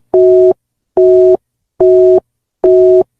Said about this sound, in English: Let's try to call her again.